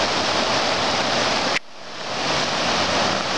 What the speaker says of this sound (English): the stream through Golden isn't running as fast, but it's running deeper